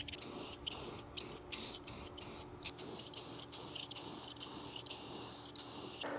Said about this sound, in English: I think I'm just gonna put the parts like on the rocks and just spray them on the rocks